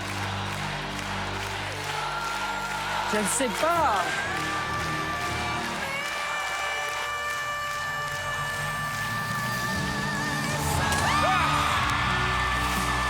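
A studio crowd at a French-language talent show cheers and applauds for a Golden Buzzer, a steady roar of clapping and whoops under music, with a voice speaking briefly.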